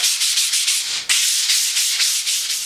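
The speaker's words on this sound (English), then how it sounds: "so I'll give it a light sanding." Steady back-and-forth light sanding on a wooden board, rhythmic rasping strokes up close, with one brief pause partway through.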